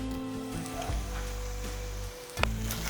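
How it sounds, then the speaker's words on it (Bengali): Pointed gourd and shrimp fry in a covered pan, giving a soft, steady sizzle close by with a few faint clinks and knocks. "এরপর ঢেকে দিচ্ছি যাতে ভাজা হওয়ার সাথে সাথে সিদ্ধটাও হয়ে যায়।"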